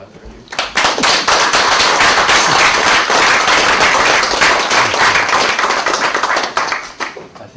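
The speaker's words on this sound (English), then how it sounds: "I think it deserves a round of applause for you" A room applauds after a PhD defense, loud close-up clapping that starts abruptly and holds steady for several seconds, with some sharper nearby claps, before tapering off.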